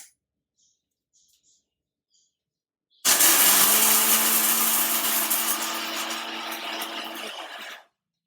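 A blender grinds pistachios into nut flour, starting abruptly after a few faint clicks and running loud and steady with a high whirring roar for about five seconds before cutting off, with no talk.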